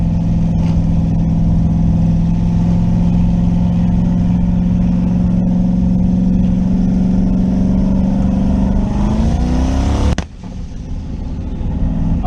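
Boosted car engine, fitted with a JEGS XHD torque converter, droning steadily under load before cutting out abruptly near the end after losing crank signal, with a brief quieter idle afterwards; loud and close, no talking.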